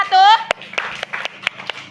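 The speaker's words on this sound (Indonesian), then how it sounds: "Tepuk tangan sekali lagi untuk kelompok" A voice is followed by a short burst of scattered hand claps from a classroom group applauding group 1, the claps sharp, irregular and fairly close.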